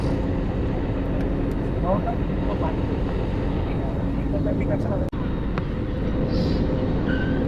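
Airplane cabin noise fills the space as the plane descends to land in Bahrain, a loud, steady low roar and rumble with faint voices in the background.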